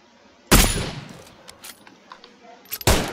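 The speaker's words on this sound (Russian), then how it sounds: "Я стрелял по джипу." Gunshots fired at a jeep in a desert video game: two loud, sharp reports well apart, with faint clicks and thuds between them.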